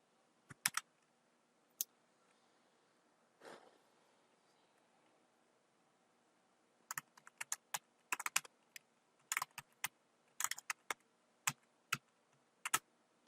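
Keystrokes on a computer keyboard: a few isolated taps at first, then after a pause a quicker, uneven run of crisp clicks. The typing is close and clear, with no voices.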